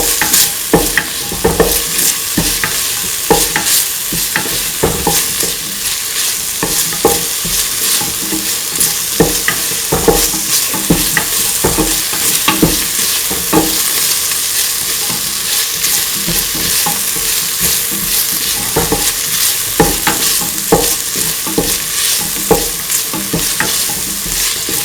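Chili duck meat sautés in a pan with tomato and salt, hissing loudly and continuously while a spatula scrapes and clatters in a quick, irregular rhythm throughout. No voices are heard.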